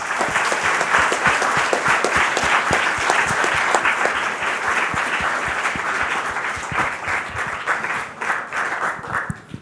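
Loud audience applause for a team at a heritage quiz semi-final, a sustained dense clatter of many hands with distinct sharp claps, gradually thinning and fading near the end.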